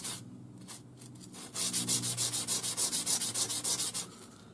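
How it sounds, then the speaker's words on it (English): A turquoise nugget ring is sanded flat by hand, turned from time to time. Some quiet scraping comes first, then a loud, close run of rhythmic rasping strokes, about a dozen in a steady back-and-forth pattern. "sand this turning it from time to time so that I'm sanding an equal amount everywhere"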